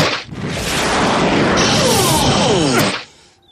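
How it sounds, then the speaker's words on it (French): A loud whooshing blast with a rising whistle and crashing impact, lasting about three seconds before cutting off abruptly, like a cartoon cannonball tennis serve in the animated series Sonic Underground. "Service boulet de canon."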